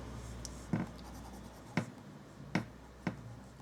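A springy Sailor Professional Gear Fire limited edition fountain pen nib writing on paper, soft scratchy strokes with four distinct ticks where the nib touches down, quiet and close with no talking.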